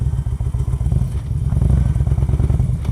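A Harley-Davidson motorcycle rides along, its loud, close V-twin thumping in rapid rhythmic pulses with wind rush, a brief dip partway through as the rider shifts up a gear.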